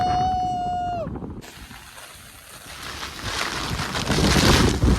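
Strong wind during heavy rain on the Harishchandragad trek in Maharashtra: a brief steady tone opens, then a rushing roar of wind and rain builds steadily louder.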